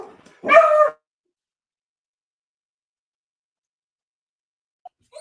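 A dog gives a single short bark near the start, close and clear, followed by near silence with a faint brief yip at the end.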